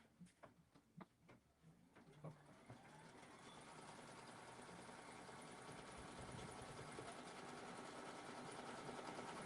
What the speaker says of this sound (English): Now it's going to do a placement stitch for my top fabric